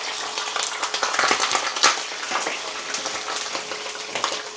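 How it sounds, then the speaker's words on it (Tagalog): Fish sizzles and crackles as it is dropped into hot cooking oil, a dense, steady spatter of pops with sharper bursts, close and loud with no talking. "maglulunod lang ako ng isda kasi mainit na yung ating mantika"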